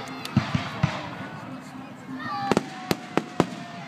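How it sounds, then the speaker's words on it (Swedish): Firecrackers and rockets bang over a Canada Day celebration, a rapid run of sharp, loud cracks and pops that comes in bursts with a whistling rocket between them, over a hum of background crowd noise. "nu har det börjat. Smällarna och raketerna."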